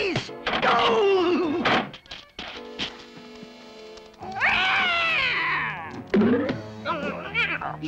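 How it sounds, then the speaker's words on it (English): A cartoon cat yowls and meows in loud drawn-out caterwauls, several wavering cries separated by brief thumps and pauses, with no talk over them. "Get him, you dumb cat!"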